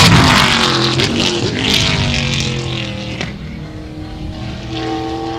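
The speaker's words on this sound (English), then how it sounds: "Jeff Westphal in the GST Motorsports Subaru Impreza L coming around the first turn there." A GST Motorsports Subaru Impreza race car roars around a time attack circuit in New Jersey, its engine loud and close at first, then steady with shifting pitch as it moves through the turn, and no talk.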